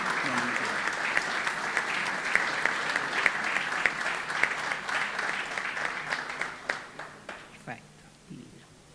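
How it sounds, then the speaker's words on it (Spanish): Steady, dense applause from a crowd, loud and continuous, fading out toward the end. "Fuerte el aplauso."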